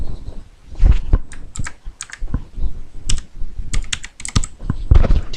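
Fingers type on a computer keyboard in quick, uneven bursts of sharp, close clicks with short pauses between them.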